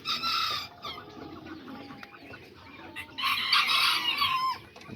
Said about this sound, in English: Just showing you guys all the little hens and little roosters that I have right here.